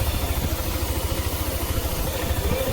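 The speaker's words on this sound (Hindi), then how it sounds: "ये हमारा इंजन का साउंड" A freshly fitted Yamaha Aerox scooter engine idles in a close, steady rumble with a fast even pulse and faint mechanical whir. No other sound accompanies it.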